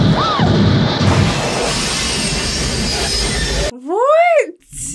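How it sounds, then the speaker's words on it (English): The steam-powered time machine train from the 1990 film Back to the Future Part III makes a loud, dense rail roar for several seconds. It ends abruptly and is followed by a series of sharp, swooping metallic squeals. "He built a time machine train."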